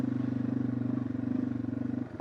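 A small motorcycle engine idles steadily just after being restarted, a low, rapid, even putter close by that runs unbroken before a brief clatter at the end.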